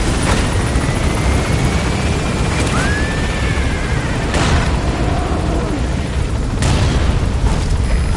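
A helicopter in the video game Metal Gear Solid V drones loudly and continuously, with several sharp booms and bursts of gunfire or explosions punching through the rotor noise.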